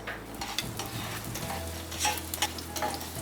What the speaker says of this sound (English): I got to put in the shallot